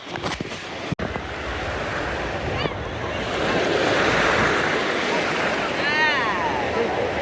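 Surf rolls steadily onto Siesta Key beach, a broad roar of waves building louder midway, mixed with wind buffeting the microphone and a faint voice in the background.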